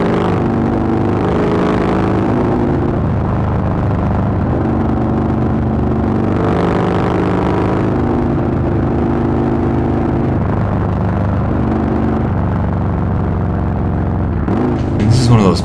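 A 2016 Harley-Davidson Dyna Low Rider S with an air-cooled 117 cubic inch V-twin rumbles continuously at freeway speed, with a deep throbbing exhaust note and wind buffeting. The engine note rises and falls slightly as the throttle changes.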